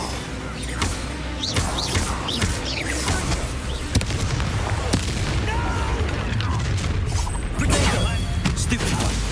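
Expelliarmus spell combat in Hogwarts Legacy, with dense booms, blasts and crackling magic impacts layered over shouted voices and battle noise throughout.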